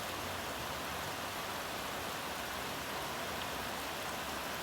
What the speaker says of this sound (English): From soft, gentle rains to outright downpours.